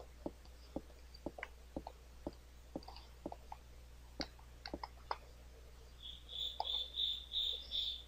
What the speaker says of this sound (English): Damn cricket.